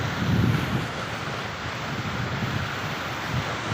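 Strong water rushes steadily through an irrigation canal, producing a broad, continuous roar mixed with wind buffeting the microphone outdoors, with no voices.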